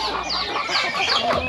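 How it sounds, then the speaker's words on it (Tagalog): Chickens on a Philippine farm cluck and chatter loudly and close by, a busy overlapping flock with no voices over them. "Ayan ang mga manok natin."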